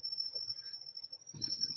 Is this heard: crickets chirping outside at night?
yes